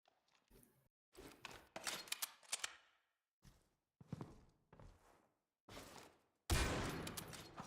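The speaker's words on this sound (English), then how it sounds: "That's a wallbang through the smoke headshot by Level there" Sniper rifle shots and gunfire in a competitive video game match, including a wallbang headshot through smoke, heard as several sharp bursts separated by gaps, ending with a loud, dense blast near the close.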